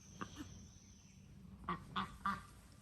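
Ducks near their coop on a homestead give several short quacks, one early and a run of three near the end, moderately close over a soft outdoor background.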